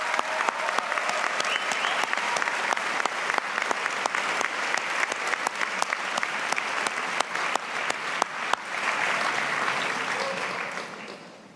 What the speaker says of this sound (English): Let's begin by giving them a round of applause.